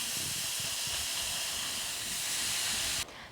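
Ground turkey sizzles in a frying pan, a steady close hiss of frying with faint crackles underneath, cutting sharply quieter near the end.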